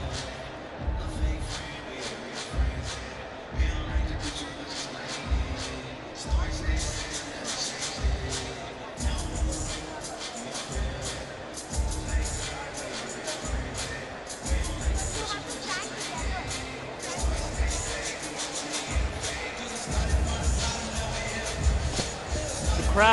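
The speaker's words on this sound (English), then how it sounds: "Crowd really have built up now, I think. Looks to be quite packed." A packed mall crowd gathers at a 3x3 professional basketball league event in Chennai, giving a steady babble of voices with irregular thumps and bangs. A commentator talks over it throughout.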